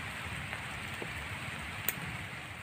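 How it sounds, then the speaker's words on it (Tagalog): Heavy rain pours down in a dense, steady hiss that stays even throughout, with no voices and only a few faint drop-like ticks in the wash. "Lakas ng ulan."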